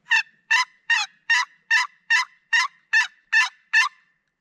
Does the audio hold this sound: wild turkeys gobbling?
yes